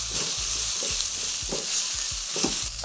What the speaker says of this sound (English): Add our garlic, add our ginger. Just gonna let this saute for for another minute or so.